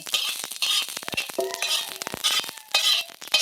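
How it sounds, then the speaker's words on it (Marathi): Peanuts rattle and skitter across a dry pan as they are dry-roasted and stirred, with quick clicking bursts and a faint metallic clink. "आता हे शेंगदाणा बाजून घेते"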